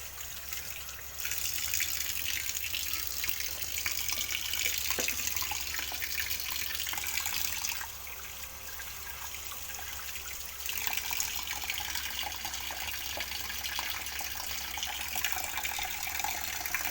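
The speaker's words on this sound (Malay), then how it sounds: "air yang mengalir." Tap water runs steadily over raw ingredients being washed in a sink, a continuous broadband gush that stops briefly and resumes, with no talk.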